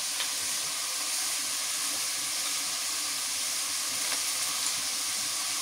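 Green chilli and garlic paste sizzle in frying oil, giving a constant, even hiss at moderate level with no voices over it.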